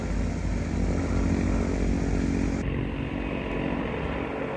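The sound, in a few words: Eurocopter fire brigade helicopter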